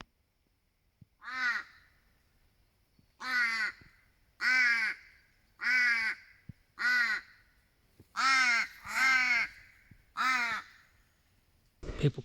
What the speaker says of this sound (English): It's just all you can hear is bird life.